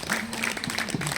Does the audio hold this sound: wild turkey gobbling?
no